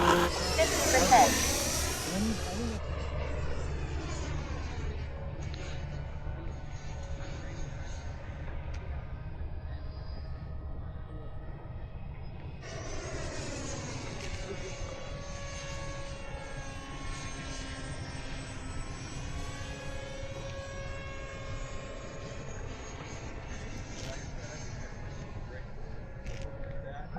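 A model Tomcat jet flies at an RC airfield, its engine whining and rising and falling as it passes overhead over nearly half a minute, with a loud rush at the start and a second pass midway.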